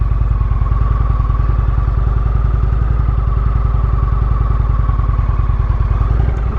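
An Indian Roadmaster motorcycle with a slipping clutch runs steadily, its engine giving a loud, even rapid pulsing with a constant drone and no pauses, heard close and alone.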